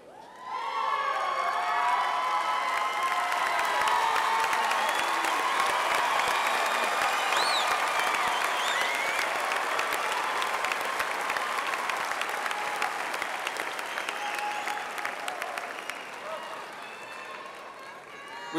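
A large crowd at a high school graduation applauds steadily, with scattered cheers and shouts rising over sustained clapping that slowly fades toward the end.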